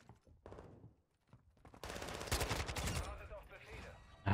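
Rapid bursts of assault rifle fire from the video game Modern Warfare 2, loud and dense in the latter half after quieter game sounds, with a voice talking faintly early on.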